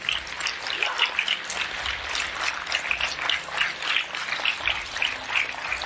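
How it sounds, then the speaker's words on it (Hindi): An audience at a health awareness program claps in a steady burst of applause that lasts several seconds at moderate volume. "तो हो जाए एक जोरदार तालियां आपके सेहत के नाम पे"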